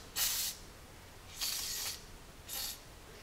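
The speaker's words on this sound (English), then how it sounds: "So I'm going to go get some PB Blaster to help penetrate that bolt." PB Blaster penetrating oil sprayed onto a stuck exhaust manifold bolt on a Jeep 4.0L engine, in three short hissing aerosol bursts separated by pauses, fairly quiet and close.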